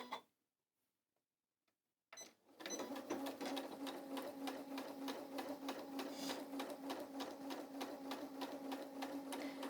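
A sewing machine runs steadily, stitching fabric with a fast, even mechanical whirr and rapid ticking rhythm, close and continuous after a short quiet start with a few faint clicks.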